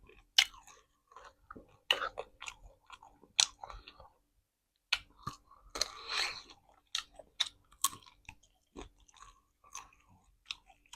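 Crunchy food is chewed, fresh shrimp papaya salad with hot-air-baked chicken feet and vegetables, close and crisp bites and munching in irregular bursts with quiet gaps and faint murmured sounds between them.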